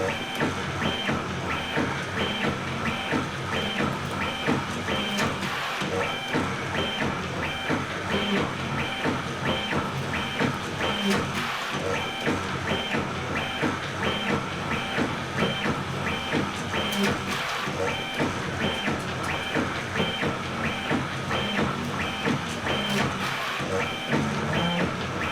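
A Prusa Bear 3D printer upgraded with dual Y steppers runs at 500 mm/s, its stepper motors whining and buzzing in a loud, fast, continuous pattern of rapid pitch changes throughout.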